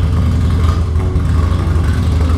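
A Harley-Davidson Dyna Clubstyle motorcycle engine runs loud and close in a deep, continuous rumble that holds steady without a clear break, and no one speaks over it.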